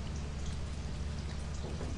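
Rain falls in the Lethal Company video game, a steady, dense hiss of drops on surfaces with a low rumbling undertone, continuous and fairly close, with no voices.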